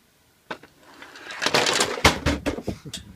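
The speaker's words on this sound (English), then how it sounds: "Just drop some pens, sorry about that." Several pens fall and clatter onto a hard surface indoors, a loose cluster of sharp, close taps and rattles that builds over a couple of seconds.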